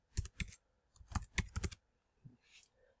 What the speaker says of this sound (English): So I'm going to actually type in left motor